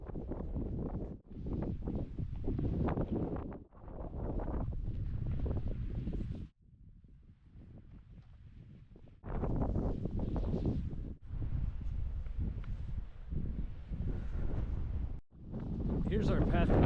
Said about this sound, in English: That is wind.